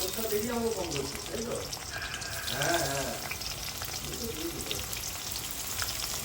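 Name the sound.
pointed gourd (potol) frying in a pan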